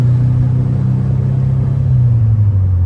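A 1950 VW Barndoor Bus engine hums low and steady while driving, a loud continuous rumble whose pitch sags slightly toward the end, with no talking.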